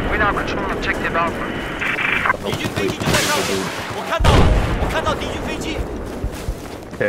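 Gunfire from a tank gunner in a war video game, with sharp shots and a loud blast midway, mixed with engine and aircraft-like rumble while people talk over the action.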